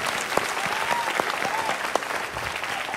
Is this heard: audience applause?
yes